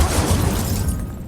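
In Hogwarts Legacy, the Incendio fire spell is cast with a loud fiery burst and whoosh, a single sustained blast of crackling flame that fades out after about a second.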